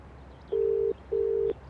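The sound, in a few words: telephone dialing a call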